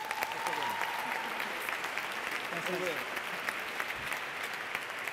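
Sustained applause from an audience at an awards gala, steady and dense throughout, with a voice giving thanks over it.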